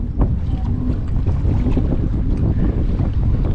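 Kayak pushing head-on into river waves on the Paraguay River in the Pantanal, a steady rushing wash of water and wind buffeting the microphone throughout, close and loud with no pauses.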